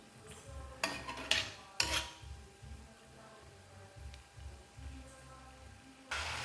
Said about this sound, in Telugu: మనం వీటి మీద మూత పెట్టుకోకుండా మనం ఇలాగ కలుపుతూ ఉండాలి.